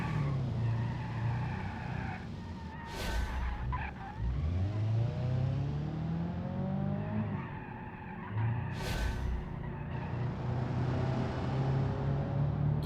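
Automatic car in the BeamNG.drive racing game, engine revving and shifting gears with rising and falling pitch sweeps, tires squealing and skidding through corners, steady and fairly loud throughout.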